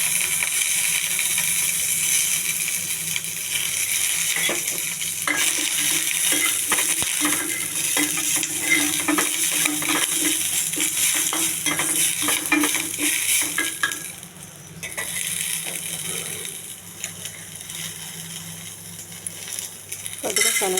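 Oil sizzles and hisses steadily in a pan as curry leaves are tempered for a peanut coriander chutney, with a continuous bright frying crackle, occasional stirring clinks and brief dips in intensity.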